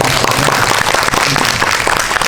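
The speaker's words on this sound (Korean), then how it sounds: "지금 축하 박수를 한번 치고 진행을 해보겠습니다." Loud, dense applause from a cinema audience at a post-screening talk with the actors, many overlapping claps filling the room steadily throughout.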